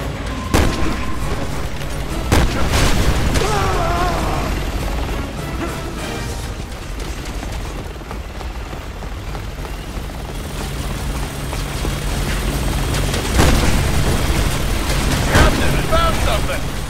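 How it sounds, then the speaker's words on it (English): An attack helicopter hovers and fires in a Resident Evil 6 combat sequence, with loud explosions and gunfire booming over a continuous rotor drone while soldiers shout to one another. "The chopper's targeting us now!"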